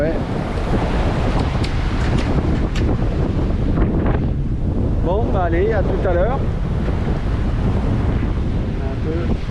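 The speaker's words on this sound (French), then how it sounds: "Il y a le vent qui va venir sur la caméra" Strong wind buffeting a camera aboard a boat heading out to sea from Elba, with waves washing underneath; someone speaks briefly early on and a brief warbling tone rises midway.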